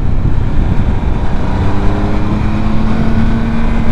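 A motorcycle on the road with its engine running steadily and loudly, dropping down to third gear as the rider rounds a corner, a low droning hum with a faint steady tone throughout.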